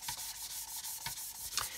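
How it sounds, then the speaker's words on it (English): Someone sands the wing root of a model aircraft by hand, making a soft, even rasp of repeated back-and-forth strokes, with a few slightly sharper scrapes, close and quiet with no talk. "wow, that's a lot of sanding"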